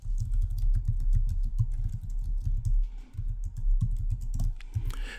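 Steady clattering of computer keyboard keys as a short sentence is typed, rapid irregular keystrokes close up and fairly loud, with no voices.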